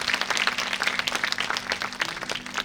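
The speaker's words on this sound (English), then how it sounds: "Give a huge round of applause to our professor, Henry Higgins" An audience applauds the student actor playing Professor Henry Higgins at a college staging of Shaw's Pygmalion: dense, steady crowd clapping at moderate volume with no voices over it.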